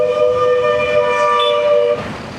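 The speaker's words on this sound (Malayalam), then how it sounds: "ആവശ്യമുള്ളതിന് ഇല്ലാത്തതിന് ഇങ്ങനെ ഹോണടിച്ചു, അതും എയർ ഹോണ്" A vehicle air horn blares in Thanjavur street traffic at school time, one loud, sustained, steady blast lasting about two seconds before cutting off to quieter road noise.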